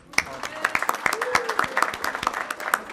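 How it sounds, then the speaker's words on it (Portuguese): Scattered clapping from a meeting audience of a permanent commission on children's and adolescents' rights, a few sharp hand claps spaced irregularly over a few seconds in a room. "Teve gente que aplaudiu mais empolgada esse segundo"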